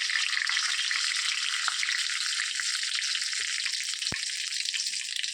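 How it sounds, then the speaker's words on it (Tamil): Fennel seeds crackle and sizzle in hot oil as a tempering for egg gravy, a constant, close frying hiss with a few faint pops and no talk. "இப்போ இந்த கிரேவிக்கு ஒரு தாளிப்பு கொடுத்துருவோம் கொஞ்சமாக சோம்பு கொடுத்துருவோம்"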